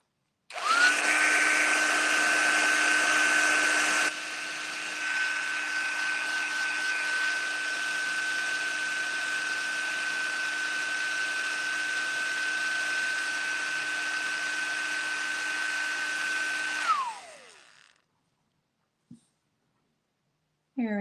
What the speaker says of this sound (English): Now I'm going to heat set with my heat tool.